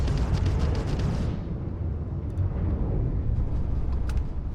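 Torpedo explosions in the DarkStar Astrodynamics space game mod roll out as a loud, continuous rumbling blast with a bright crackling burst at the start, settling into a deep sustained roar with a few faint pops.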